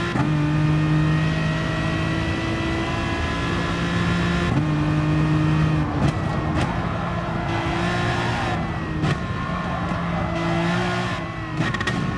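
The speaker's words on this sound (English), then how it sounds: "Hello, rev limiter." A car engine, in an Aston Martin versus BMW race, holds high revs with a steady droning note that repeatedly stutters and cuts as it bounces off the rev limiter, loud and close throughout.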